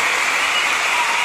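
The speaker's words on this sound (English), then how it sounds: "Clap your hands, goddammit." Dense, steady audience applause fills the whole moment at a comedy performance, loud and close, with no talk over it.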